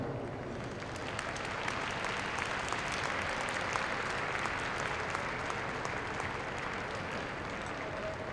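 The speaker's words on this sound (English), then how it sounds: "you can applaud your favourites" A crowd applauds an Alaskan Malamute in the Working Group judging at Crufts 2002. The clapping is steady and sustained throughout, with no speech over it.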